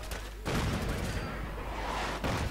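Cannon fire and a thrown grenade exploding in the video game Fallout 4, heard as sharp booming blasts that open and close the stretch, with rumbling gunfire-like noise between them at moderate level.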